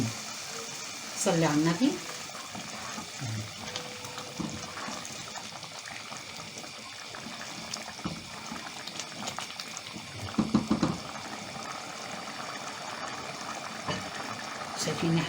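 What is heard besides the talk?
rice sizzling and water boiling in a pot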